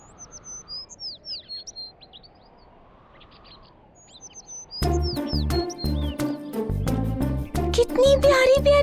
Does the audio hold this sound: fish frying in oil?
no